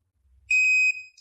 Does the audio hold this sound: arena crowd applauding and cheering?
no